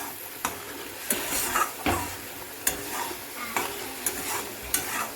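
Cabbage being sautéed with spices in hot oil, a continuous sizzle broken by repeated rhythmic stirring scrapes roughly every half second, close and fairly loud.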